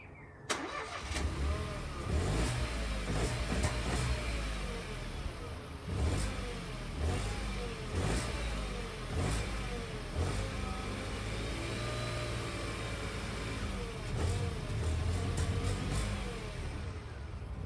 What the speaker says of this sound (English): If I'm gonna start it up so you can hear how it sounds like